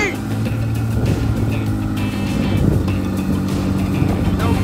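A small aircraft's newly developed Adept engine, on airplane November 557 Lima at Caldwell Airport, runs with a loud, steady droning hum as a person talks over it.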